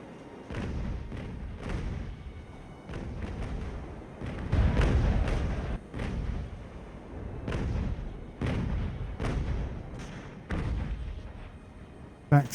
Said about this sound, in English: Put some grape shot right into their faces now that they're slightly panicking.